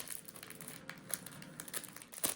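Crinkly crumpling and tearing of tape and packaging as a taped-up mail package is pried open, with irregular close-up rustles and sharp rips, no talking.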